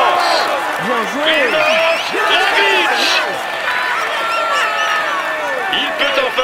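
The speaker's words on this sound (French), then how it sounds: "On l'applaudit bien fort" A large crowd at the Tour de France 2022 final stage finish on the Champs-Élysées in Paris roars, whistles and claps for the race winner, a loud, sustained wash of cheering voices throughout.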